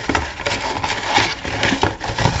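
A sheet of 160 gram paper is crumpled by hand close by, giving a continuous dense crackling and rustling with no pauses throughout.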